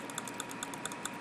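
Crisp keyboard-style typing clicks from The Stanley Parable game, a regular run of light taps close up and moderately loud, with nobody talking over them.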